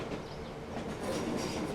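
A train in the Transport Fever 2 game rumbles through a junction near a Scottish station, a steady close rolling noise with dense broadband wheel and track sound that swells slightly toward the end.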